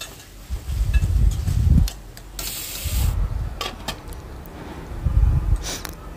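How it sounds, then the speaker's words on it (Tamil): Onions, green chilies and curry leaves are stirred and sautéed in a pan, with three separate bursts of scraping and rubbing and a faint hiss between them. "2 பச்சை மிளகா போட்டு வதக்கிட்டு ஒரு 2 பெரிய வெங்காயம் சின்ன சின்னதாக கட் பண்ணி போட்டு கருவேப்பிலை போட்டு வதக்கிட்டுருக்கிறேன்"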